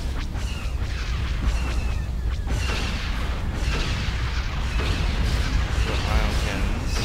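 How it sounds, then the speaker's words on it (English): Ion cannons fire in a Star Wars strategy game set in the Jedi Civil War, giving slow, repeated booming blasts over a constant dense rumble of battle noise, with low speech-like sounds mixed into the din. "The ion cannons."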